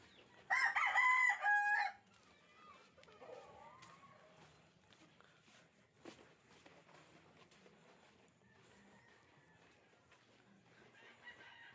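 A rooster crows once, loud and close, near the start, followed by quieter clucking from chickens and soft scattered background sounds.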